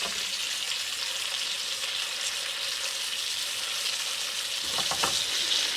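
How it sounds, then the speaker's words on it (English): Food sizzles steadily in a hot pan, a dense continuous frying hiss with faint crackles and a slight swell near the end, heard alone without voices. "Let's give her a little bit more on the cook."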